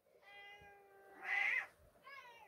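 A cat meows in two or three drawn-out, rising and falling calls in a quiet room, with one louder, brighter cry in the middle and no talking.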